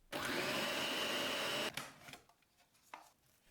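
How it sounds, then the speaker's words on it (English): Blender whirring steadily for about a second and a half while chopping chickpeas and aromatic herbs for falafel, then stopping abruptly, followed by a few faint knocks. "Then add the aromatic herbs. Blend again."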